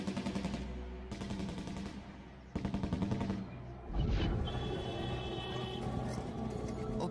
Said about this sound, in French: des milliers de balles ont été tirées en l'air